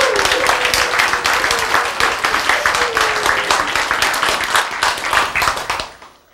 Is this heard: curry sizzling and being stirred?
no